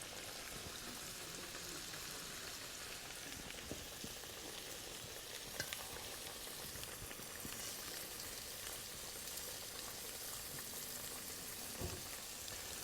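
Buttermilk-battered onion frying in hot oil, a soft, steady crackling sizzle that continues throughout at low level with a few faint pops, no voices.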